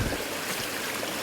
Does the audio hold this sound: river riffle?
yes